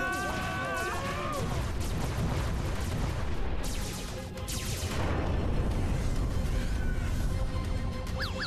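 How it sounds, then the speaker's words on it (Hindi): Cartoon gunfire rains down from an attacking spaceship, dense continuous blasts and crashes layered over music and effects, with characters shouting amid the barrage. "फायरिंग रुक गई।"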